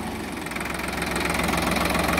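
A Sonalika DI 50 DLX tractor engine runs steadily in medium gear, its loud, close diesel chugging throbbing rhythmically and building slightly in intensity, with no voices over it.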